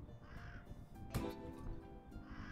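Crows caw in the Stack Stones video game, with a single loud caw in the middle standing out over a steady background of game ambience, with fainter calls around it.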